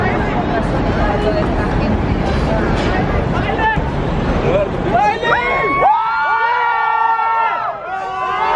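A crowd of fans shouts and cheers continuously, loud and close, with a spoken voice over the noise and high shrieks and whistles rising toward the end.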